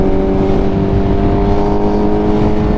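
A 2024 Suzuki GSX-R750 sport motorcycle engine pulls under acceleration with a loud, steady, close droning tone mixed with rushing wind and road noise.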